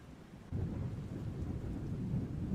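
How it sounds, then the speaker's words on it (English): Rain patters against a window in a storm while low thunder rumbles, swelling suddenly about half a second in and then holding as a soft, dense wash with no voices. "just the sound of the rain pattering against the window"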